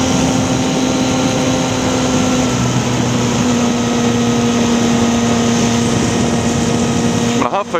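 A 2015 Yamaha MT-09 Tracer motorcycle with an Akrapovic titanium exhaust idles or runs steadily nearby, giving a continuous engine drone with a strong humming tone. It stops abruptly near the end.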